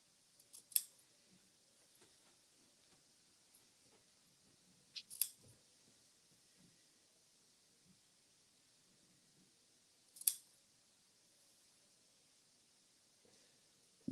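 Scissors cutting quilt fabric samples in a quiet room, three sharp snipping bursts spaced several seconds apart with faint rustling handling sounds between them.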